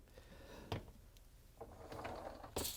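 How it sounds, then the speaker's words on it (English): Lower dish rack of a Frigidaire dishwasher pulled out with the door open, giving a few distinct clunks and rattles with soft rolling scrapes between them, close up and moderately quiet, with no talking. "we have to open up the dishwasher door and pull up the lower rack."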